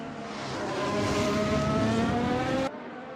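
A race car pulls into the pit lane at the Sepang circuit, its loud, steady engine drone holding a rising pitch close by before cutting off abruptly near the end.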